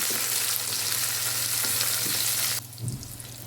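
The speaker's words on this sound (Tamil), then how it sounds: "கத்திரிக்காயையும் எண்ணெயிலே நல்லா வதக்கி விட்டுக்கலாம்." Cut eggplant sautéing in hot oil for a spicy Tamil chickpea kara kuzhambu, a steady close sizzle and fry hiss with faint stirring scrapes that drops away sharply near the end.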